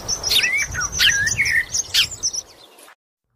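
Birds chirp and tweet as a sound effect in a read-aloud children's story about a farmer and his seeds. Bright, rapid, overlapping calls sound close and clear, then cut off abruptly.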